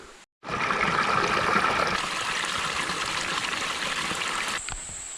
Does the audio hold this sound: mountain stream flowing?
yes